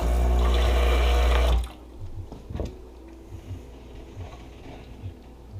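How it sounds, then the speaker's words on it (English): A Crossland CC1 espresso machine purges water with a loud, brief rushing hiss, then cuts off abruptly, followed by faint clicks and small knocks in a quiet room. "So what I like to do is purge a little water"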